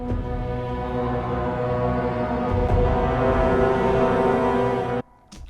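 A looping video game music cue with a pickup, set up in Wwise, plays as steady sustained tonal music at an even level for about five seconds, then fades away into near silence.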